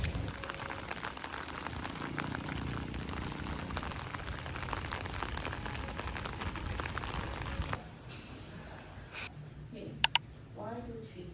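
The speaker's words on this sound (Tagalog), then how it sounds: "Grabe yung ulan naman." Heavy rain pours down on a farm in Bicol, a dense, steady hiss of drops for most of the stretch before it thins out, with people talking faintly and a couple of sharp knocks near the end.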